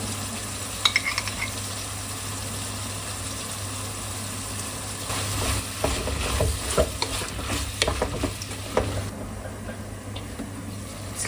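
Tomato or pepper paste is stirred and fried in a pan, giving a low steady sizzle with a constant hum beneath it and scraping strokes that come more often midway through; no one talks.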